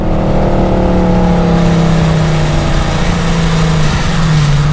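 A Hennessey HPE850 Hellcat roars loudly under hard acceleration, its engine pitch climbing steadily through a no-lift shift from third to fourth gear, heard close from inside the car.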